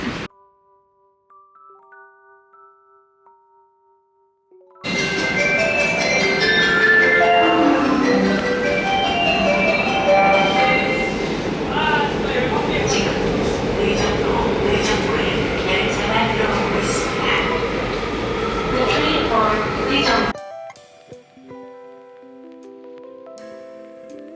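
A melodic station chime rings out over the loud, steady rumble of a Seoul metro train pulling into the platform, then fades to quiet.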